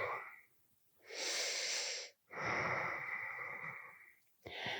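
Slow, deep breaths during a dynamic vinyasa yoga session: a long airy inhale, then a longer steady exhale after a brief pause, both close and fairly loud, with a third breath starting at the end.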